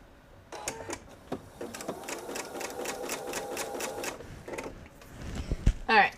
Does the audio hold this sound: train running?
no